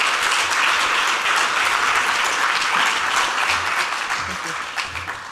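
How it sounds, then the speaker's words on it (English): Sustained, dense applause from a crowd at a community annual meeting, steady and loud for several seconds before tapering off at the end. "Let's give her one more round of applause"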